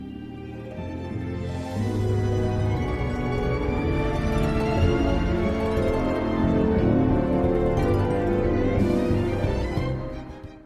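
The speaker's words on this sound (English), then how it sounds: "original, usually instrumental music, composed and recorded especially for a film" Instrumental orchestral film score with no singing, a full ensemble swelling in after a soft opening and holding steady and loud before fading at the end.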